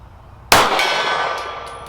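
A steel gong rings out with one sharp clang from a 9mm pistol bullet strike, then a bright metallic ring that decays slowly over more than a second, loud and close.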